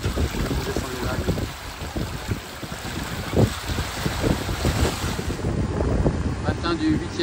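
A sailboat on an Atlantic crossing from Cape Verde toward Barbados surfs down waves at about seven knots; constant rushing water and heavy wind buffeting on the microphone fill the scene, with surges as the hull slides down swells.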